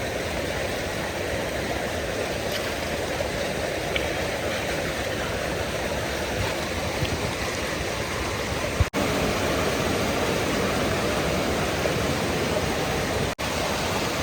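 Oxygen aeration bubbling in a fish farm tank in South Korea, a constant, dense rushing hiss of water and air that holds level and unbroken throughout, with no voices.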